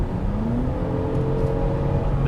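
A 2022 Toyota Camry TRD engine drones steadily and rises slightly in pitch as it revs on a downshift, heard from inside the car with a constant road hum.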